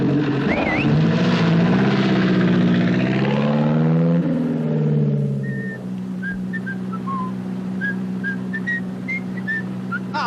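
A vintage propeller aircraft at a wartime airfield runs its engine for takeoff, a loud steady drone with shifting pitch that settles into a lower hum, with faint whistle-like tones over it.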